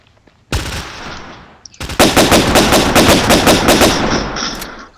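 Rapid bursts of G3 battle rifle fire in a first-person shooter game, loud and close, with a short burst and then a longer run of evenly spaced automatic shots.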